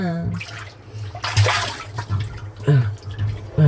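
Water splashes and sloshes inside a drum as someone plays in it, in irregular bursts with a brief gushing swell, close by, with faint vocal sounds between the splashes.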